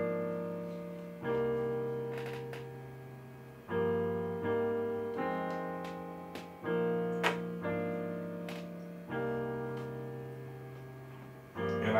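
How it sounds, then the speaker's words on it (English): A self-made synthesized piano sound in a music track plays sustained chords that change every second or so, with light percussive clicks on top, steady and fairly quiet, with no voices. "I got this piano right here that I made"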